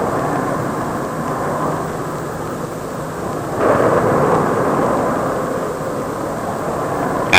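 Concorde airliner taking off, a broad, steady roar of jet engines that swells slightly midway and rumbles on continuously, loud and distant-sounding with no voices.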